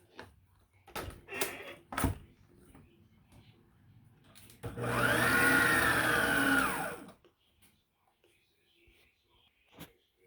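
An electric hand mixer whirs through walnut cookie dough of butter, sugar, salt and vanilla in a loud burst of about two seconds, preceded by clattering handling noises and a quiet voice.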